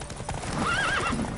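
Horse hooves clip-clopping at speed in a race within The Witcher 3 video game, with a high neigh rising over the steady galloping rhythm near the middle.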